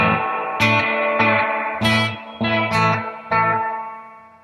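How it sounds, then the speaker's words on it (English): An electric guitar runs through a Capistan delay pedal with reverb added, playing six separate chords, each ringing into a smeared echo and reverb wash that carries between strums. The tone is loud, close and steady, with no voices. "you can hold these two buttons down and add in reverb as well"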